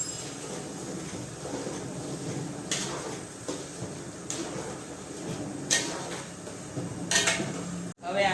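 A spoon scrapes and clanks against a pot while tomato gravy for green pav bhaji is stirred and mixed, with irregular metallic knocks and strokes close by, ending in a sharp thump.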